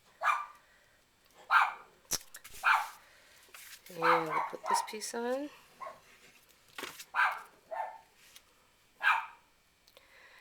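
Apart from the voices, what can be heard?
dog barking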